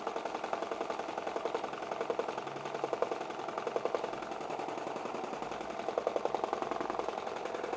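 An embroidery machine stitching a Richardson 112 hat, running a fast, steady mechanical chatter of needle strokes with a rhythmic knocking pulse, close and continuous.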